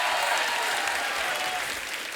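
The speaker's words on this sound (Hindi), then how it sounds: "ये तालियां बजती रहेंगी, नहीं रुकने वाली" Studio audience applause at a comedy show, a close, steady burst of many hands clapping that carries on without pause and fades slightly at the end.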